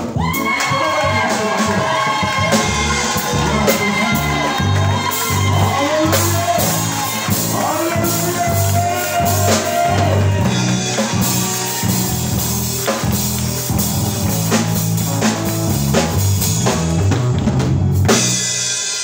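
A church congregation cheers and shouts in acclamation, loud and continuous with many voices and rhythmic bursts throughout.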